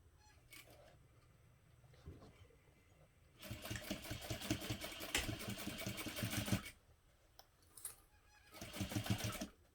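A sewing machine stitches through the thick base panels of a tote bag with a short stitch length. It runs in two loud close bursts of rapid needle chatter, with quiet handling noise between them.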